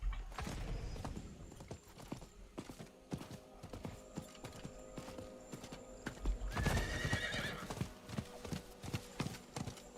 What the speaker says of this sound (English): I'm really glad I have a horse for this.